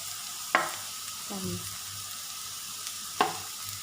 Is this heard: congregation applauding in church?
no